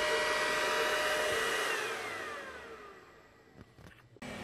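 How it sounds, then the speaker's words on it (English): An xTool D1 Pro 20W quad-diode laser engraver homes too fast, its stepper motors giving a loud rising-and-falling whine that fades, then brief knocks as it bounces off a limit switch. "the machine bounces a little bit when reaching limit switch."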